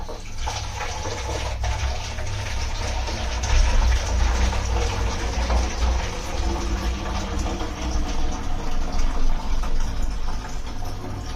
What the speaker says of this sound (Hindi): दोनों पानी की बोतलों को मैं अच्छे तरीके से इसके अंदर भर के रख